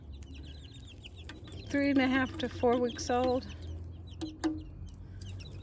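Young backyard chickens, a batch of about four-week-olds, cluck and chirp in a short burst of several calls near the middle, set against quiet outdoor background noise with a person speaking briefly.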